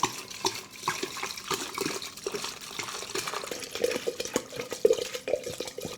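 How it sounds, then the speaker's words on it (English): Vodka is poured into a vessel over sugar cubes and orange pieces, a steady splashing and gurgling of liquid with small glugs and drips, close and moderately loud. "you're going to take your vodka and you're going to pour it in"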